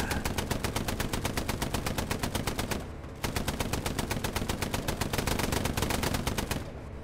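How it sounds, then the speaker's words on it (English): Machine gun fire in the World War II shooter game Hell Let Loose: two long, loud, rapid bursts of evenly spaced shots, each lasting about three seconds with a brief pause between them. "More of them to the right, machine gun."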